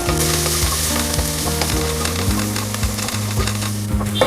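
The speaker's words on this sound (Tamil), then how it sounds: "ஒரு பெரிய வெங்காயம் போட்டு நல்லா கோல்டன் கலர் வர வரைக்கும் ஃப்ரை பண்ணிக்கலாம்." Sliced onion and green chillies frying in ghee for Keelakarai ghee rice make a loud, close, continuous sizzle with clattering stirring knocks and some tonal background sound underneath.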